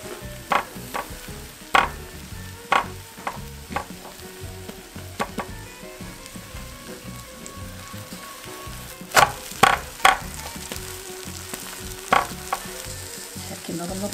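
Gimbap fillings pan-frying on low heat, a steady soft sizzle with intermittent sharp scraping and clacking of a utensil against the pan, close and alone with no voices.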